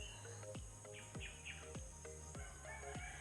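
A bird calls repeatedly outdoors, sharp downward-sweeping notes about every half second over a faint background with other chirps, fairly quiet and without speech.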